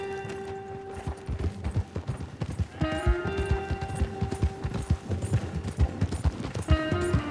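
Horse hooves in Red Dead Redemption 2 clip-clop in a steady, rhythmic trot, fairly close, with a brief whinny and game music tones layered underneath.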